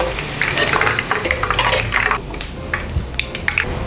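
Eggplant pieces frying in hot oil in a home kitchen, a steady close crackling sizzle with scattered stirring clicks and light utensil taps against the pan.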